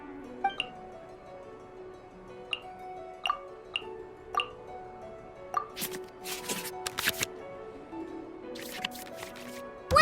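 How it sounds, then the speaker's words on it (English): Digital cards shuffling back into a draw pile in Genshin Impact's card game, heard as a run of crisp clicks and tinkly chimes followed by bursts of papery swishing, with no one speaking. "select any number of cards in our hand to shuffle back into the draw pile"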